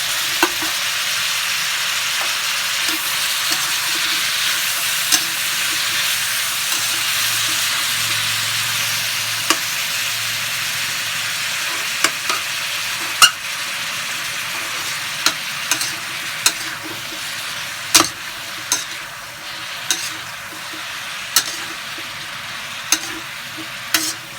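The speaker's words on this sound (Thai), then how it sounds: "สลดแล้วเองก็จะใส่พริกหวานสามสีลงไปเลยจ้ะ นี่เป็นพริกหวานสามสีแล้วก็ หอมหัวใหญ่จ้ะ" Pork stir-fried with three-colour bell peppers and onion sizzles steadily in a pan, with scraping stirring clicks becoming more frequent toward the end; no voices.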